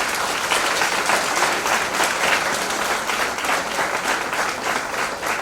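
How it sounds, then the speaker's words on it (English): Conference audience at a state-level CA students event applauding the speakers, dense steady clapping from a full hall that runs the whole stretch with no talk over it. "let us give a big round of applause for all the speakers."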